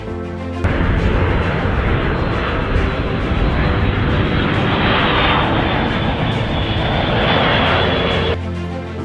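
A loud, steady roar of an airplane passing overhead, starting abruptly and holding constant before cutting off near the end.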